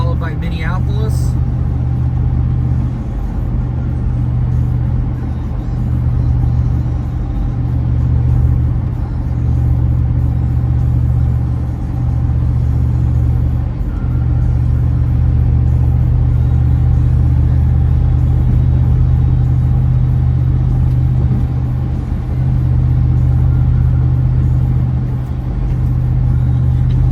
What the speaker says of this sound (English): Traffic's been like this all day on the freeways.